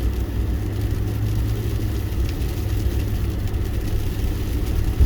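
A car drives along a snowy road through Houlton, Maine in nasty weather, its engine and tires giving a steady, close, low rumbling drone with no talking.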